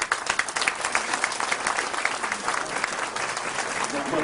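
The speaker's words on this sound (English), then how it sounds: "I want a round of applause for Orly is deserved." Round of applause from an audience at a Tea Party presentation, dense continuous clapping filling the room for about four seconds, loud and even with no pauses.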